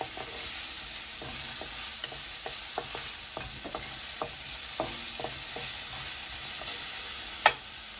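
Red and green chilies sizzle in a frying pan with a soft, steady hiss, stirred by scattered clicks and scrapes and a sharp clatter near the end.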